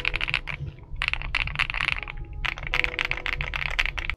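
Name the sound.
typing on Kzzi K75 Lite mechanical keyboard, Rain linear switches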